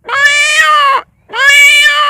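A man mimics a peacock's call with two loud, drawn-out, wailing cries separated by a short pause. Both are close and clear against silence.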